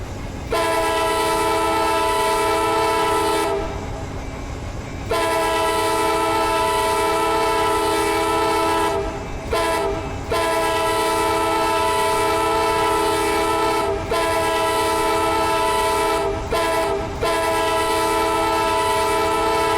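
A passenger train, the Silver Meteor running at 79 mph in Run 8 Train Simulator, sounds a loud multi-tone horn in long sustained blasts with brief breaks, over a rumbling rail background.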